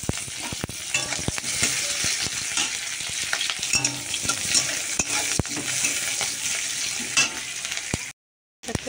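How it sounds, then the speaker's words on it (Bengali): Onions sizzle steadily in hot oil, fried until browned, with repeated clicks and scrapes of a spatula stirring the pan before a brief drop to silence near the end. "দেখো পেঁয়াজটা ভাজা ভাজা হয়ে গেছে, একদম লাল লাল হয়ে গেছে।"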